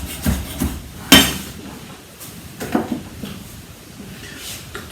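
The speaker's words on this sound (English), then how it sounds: "And when you're chopping coriander, don't chop it too fine." A knife chops fresh coriander coarsely on a kitchen board while a sweet potato curry is prepared, giving a few sharp, irregular close-up thuds with quiet gaps between them.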